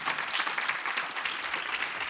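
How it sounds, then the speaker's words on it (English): A church congregation breaks into applause, a dense, even wash of many hands clapping together, fairly loud and sustained for a couple of seconds with no speech over it. "Y'all ought to give him a hand clap"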